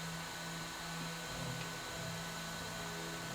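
A Modix Big 40 3D printer moves its head toward the front right corner, giving a steady, faint mechanical whir with a low motor hum that holds evenly throughout, with no talk.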